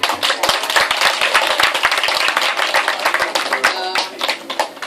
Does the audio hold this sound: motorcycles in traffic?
no